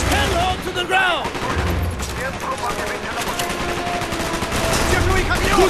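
Gunfire rattles in Call of Duty: Black Ops, steady automatic bursts and single shots in a loud battle scene, with shouting voices over the shooting.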